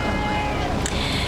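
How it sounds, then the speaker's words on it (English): Steady, loud wind buffeting an outdoor microphone at a high school graduation ceremony, a continuous low rumble filling the whole moment. "It's windy."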